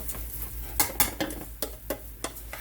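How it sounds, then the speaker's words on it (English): Rice being stirred as it browns in a pan, with a spoon scraping and clinking in irregular strokes over a soft, steady sizzle, close and fairly quiet. "you have to continue to stir it until it's rice. And it's getting brown"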